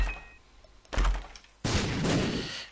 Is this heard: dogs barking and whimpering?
no